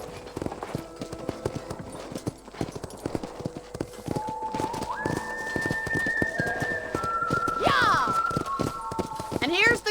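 Horse hooves clip-clop steadily on hard ground in the Red Dead Redemption video game, a close, even walking rhythm under a voice speaking, while whistle-like tones rise near the end.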